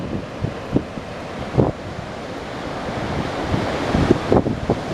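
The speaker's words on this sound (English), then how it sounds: "Pretty good sized waves." Ocean surf breaking at Bodega Head on the coast, a steady wash of fairly big waves with wind noise buffeting the microphone and a few louder crashes rising out of the roar.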